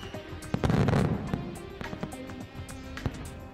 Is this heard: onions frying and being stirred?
no